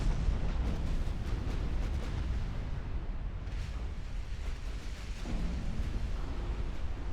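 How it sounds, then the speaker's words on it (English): Battleship gunfire and shell impacts in the naval game Ultimate Admiral Dreadnoughts, a continuous dense rumble of booming salvos and explosions with sharper cracks throughout, loud and unbroken. "Dakota is taking the brunt of the enemy battleship fire."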